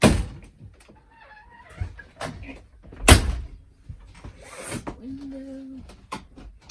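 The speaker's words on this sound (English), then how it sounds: "Close the door." A door shutting inside an RV parked for boondocking near Salt Lake City, one solid thump amid shuffling handling noises and a brief squeak, with voices talking nearby.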